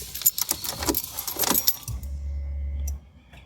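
Keys jangle in the ignition of a VW Touran project car in winter, then the engine cranks and catches, settling into a steady low idle for about a second before cutting off.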